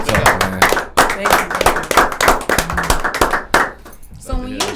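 A few people on a casual talk show clap in quick, uneven bursts, close and sharp, mixed with talking voices.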